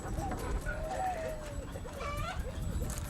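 Chickens cluck close by, several short warbling calls overlapping in a loose rhythm over a busy farmyard background, with a voice speaking underneath.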